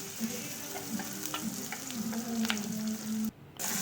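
Sautéing in a pan for a broad bean curry gives a close, steady frying sizzle with light stirring clicks and a faint low hum. A brief drop near the end breaks it before the sizzle resumes, with no talking.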